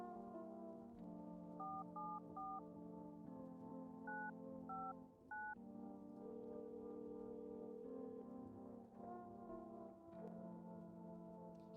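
Telephone dialing tones in the video game No, I'm Not A Human: a quick series of short keypad beeps over a low sustained hum, fairly quiet and evenly spaced.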